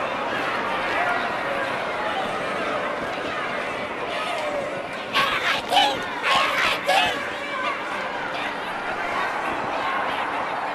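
A large crowd cheers and clamors at a steady, loud level throughout a Halo 2 game cinematic, with a burst of nearer shouts and voices rising above the roar midway.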